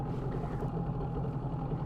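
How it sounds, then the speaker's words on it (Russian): A Tohatsu 9.8 outboard boat motor runs at a steady, even drone, droning continuously without talk for a couple of seconds. "Мотор ровно стоит. Выходит на глиссер быстро, хорошо."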